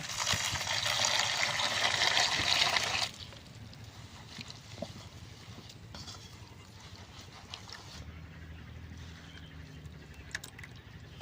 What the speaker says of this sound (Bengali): এখন জল দিয়ে দিয়ে নেব।